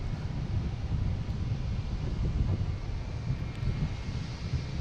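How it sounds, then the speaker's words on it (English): A Delta Airbus A220 jet at Boston Logan gives off a continuous, loud engine roar, with wind noise rushing across the microphone throughout. "we have a Delta here heading to Kansas City. An A220, flight 314."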